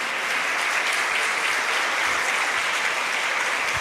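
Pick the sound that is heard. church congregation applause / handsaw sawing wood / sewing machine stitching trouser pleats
church congregation applause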